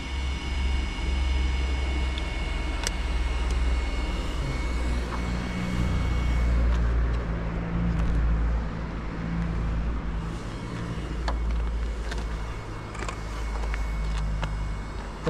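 A car in a speed test at full throttle in 2S mode gives a steady broadband roar with a rumbling low end. It stays continuous and fairly loud for the whole stretch, with no voices over it.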